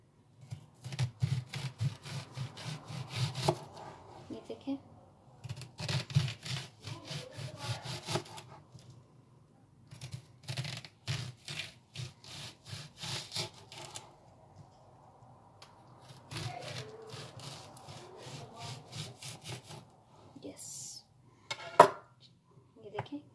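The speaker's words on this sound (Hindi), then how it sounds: "एक लार्ज साइज का प्याज और इसको मैं इस तरह से काट लूँगी" A knife cutting a large onion into rings on a board, with rhythmic rasping sawing strokes in several bursts separated by pauses, close and clear, and occasional soft talk.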